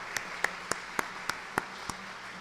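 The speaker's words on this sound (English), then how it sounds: "Sorry, I keep forgetting to clap." Seven sharp, separate hand claps from a single person, evenly spaced and fairly close, sounding on their own at a State of the City event honoring a Corporate Citizen Award winner.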